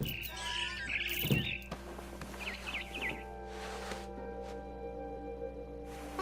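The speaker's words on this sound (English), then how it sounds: "Then I heard chirping outside my window. It was a barn swallow going back to her nest." A barn swallow in a video game chirps outside a window in short, bright twittering bursts, loud at first, then a quieter series of chirps over a low steady hum.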